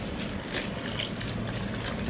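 Water poured from a container onto chopped dates and deseeded red chilies for a grape chutney, a soft continuous trickle and splash at close range, steady and unbroken, with no voices.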